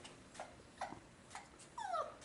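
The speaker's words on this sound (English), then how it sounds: "Well, I figured out it's a girl dog, and she seems to be crying a bunch." A female dog whimpers and cries for attention in a quiet room, giving four short high whines spaced about half a second apart, the last a longer wavering cry, all fairly faint and close.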